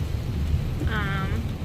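Steady rain drums on a car while it drives through New Hampshire on a highway, a dense constant hiss over a low road rumble with no talk.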